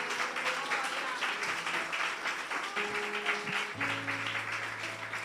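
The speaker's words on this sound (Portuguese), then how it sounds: "Dê o seu melhor aplauso, Senhor." A church congregation applauds during a service, steady moderate clapping held under a sustained organ or keyboard chord and some background voices.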